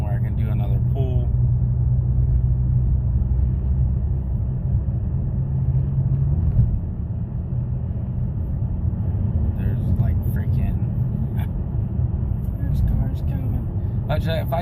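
Dodge Challenger with a 6.2 engine, fitted with NGK plugs and Ripp coil packs, a deep steady exhaust rumble heard from inside the car that shifts tone partway through, continuous and loud.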